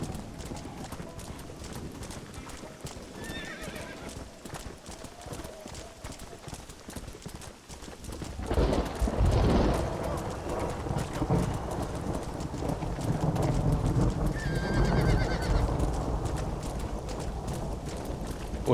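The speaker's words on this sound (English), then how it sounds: "se me atoró el caballo" Horse hooves clip-clop in the Red Dead Redemption video game, faint at first and then louder and rumbling under background game sounds, with a short neigh partway through.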